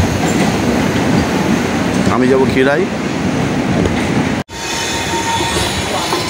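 A Medinipur local passenger train rumbles along with a rising, wavering wheel squeal, then a sudden brief dropout before the rolling noise resumes; a person speaks briefly over the din.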